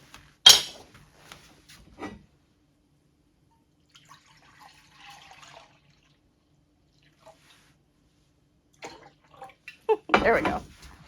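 Raw goat's milk is poured into a cooking pan in an Alaska homestead kitchen, heard as a short, close splashing pour near the end after a few faint clinks and quiet handling sounds.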